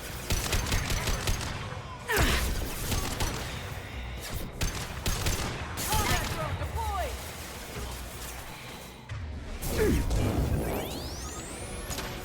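Game combat from Mass Effect 2 on Xbox Series X: a flashbang grenade bursts amid crackling bursts of gunfire and impacts, with sharp blasts near 2 and 10 seconds and a rising whine, while a voice speaks over the action.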